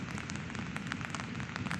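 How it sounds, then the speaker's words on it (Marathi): Heavy unseasonal rain pours in the Konkan, a dense, steady hiss of drops drumming on surfaces with scattered brighter splashes, close and continuous. "अवकाळी पावसामुळे पाऊस जोरात आला आहे"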